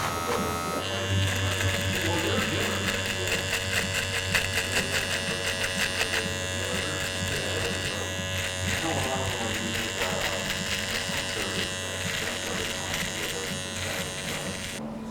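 Electric trimmer shaping up a beard, a steady high buzzing hum running continuously close to the mic with slight changes in tone as it moves across the hair.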